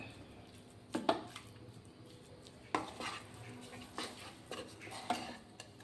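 A utensil stirring and mashing egg yolk into a cutlet masala mix in a pot or bowl, with scattered clinks and scraping knocks at an uneven pace, fairly quiet and close.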